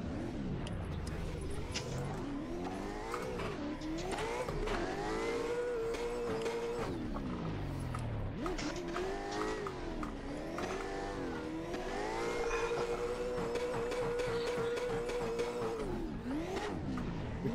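A Mustang's engine in a racing video game revs and swings up and down in pitch while drifting, with sustained tire squeal during long slides, loud and continuous throughout with no talk over it.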